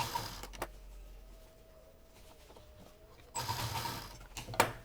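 A sewing machine stitches a basket handle, with a short whirring run up close, a quiet pause, then a louder burst of stitching near the end.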